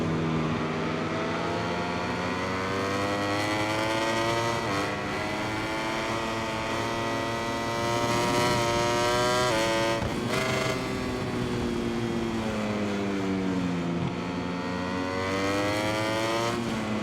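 Ducati motorcycle engine racing in MotoGP 21, a continuous high-pitched whine that climbs and drops as the bike accelerates, shifts and slows, loud and steady throughout.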